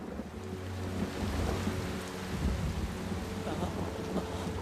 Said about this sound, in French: Vous n'aimez pas la pluie, jeune homme?